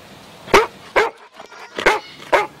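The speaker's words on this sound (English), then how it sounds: "A dog?" A dog barks nearby, four sharp, loud barks spaced about half a second apart with short pauses between them, standing alone in a quiet indoor space.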